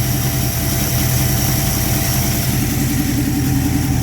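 A 1972 Plymouth Gold Duster's 318 V8 running with its ignition timing retarded, a loud, close, steady idle with an even low rumble and no talk over it.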